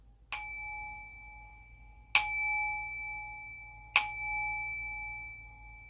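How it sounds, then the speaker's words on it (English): An old singing bowl is struck three times at even intervals, each strike a bright metallic ding that rings out in a long, sustained, slowly fading tone, close and clear in a quiet room. "I pick up my old singing bowl."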